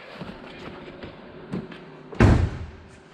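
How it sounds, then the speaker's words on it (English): A 1966 Ford Mustang convertible door shuts with a single heavy thud near the end, preceded by a few light taps and clicks, close by. "The door sounds really nice when it closes too."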